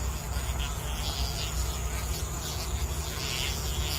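A wasp caught by a spider buzzes outdoors, a continuous close insect drone with fluttering, wavering wingbeats that stays steady and loud throughout.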